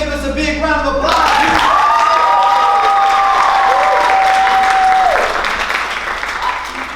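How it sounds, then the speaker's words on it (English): Loud, sustained applause from a class show audience, dense clapping with some cheering that swells, holds steady for several seconds, then tapers off near the end; a whistle-like tone rises briefly in the middle. "give us a big round of applause"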